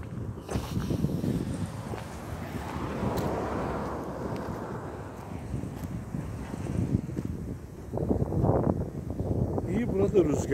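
Gusty wind buffets the microphone in rough, rumbling waves on a road near Akkuş, Ordu, toward Niksar at about 25 degrees, swelling and easing throughout, with a stronger blast near the end.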